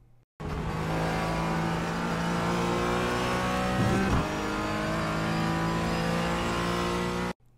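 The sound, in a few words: GT4 race car engine accelerating in iRacing video game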